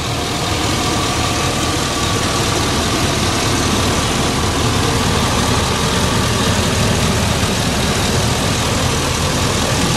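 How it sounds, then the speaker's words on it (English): A 2008 Chevy K3500 Silverado wrecker autoloader idles with a steady, loud, unbroken engine drone and vibration, no voices over it. "Truck's running right now."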